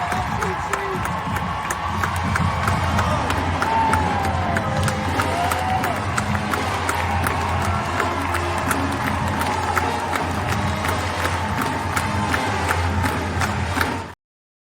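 Large crowd at the Moody Center arena cheering a Texas women's soccer win, a steady roar of cheers and shouts with some clapping sustained throughout and ending abruptly.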